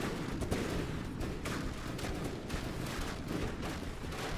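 Warship guns firing in a naval battle video game, including a rear turret, as a cruiser named Imperator trades shots with an opponent; a dense, continuous rumble of repeated booming shots fills the clip with no pauses.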